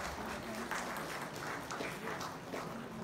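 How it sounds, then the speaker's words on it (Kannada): Audience applause at a Kannada music concert in Mysuru, a steady dense wash of clapping from a seated crowd, loud and continuous for a few seconds with no break. "ಚಪ್ಪಾಳೆ ಒಂದು ಚಪ್ಪಾಳೆ"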